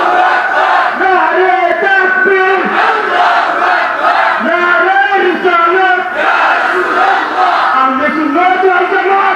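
A large crowd at a religious gathering honoring Abdul Qadir Jilani loudly shouting the takbir "Allahu Akbar" in unison, with repeated swelling chants of many voices, close and sustained.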